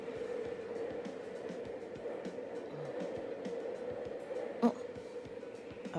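Subway train ride in the visual novel UsoNatsu: a steady low rolling hum with faint rhythmic clicks of wheels on rail joints and one brief sharp clack near the end.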